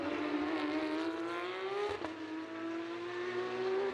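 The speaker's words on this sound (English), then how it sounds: "So there, Dylan Pereira giving it all that he can in the number 17 car, trying to close in on the 77 car." Porsche Sprint Challenge race cars lap the Jerez circuit, a loud sustained engine roar rising in pitch through the gears with a brief shift dip midway, close and continuous.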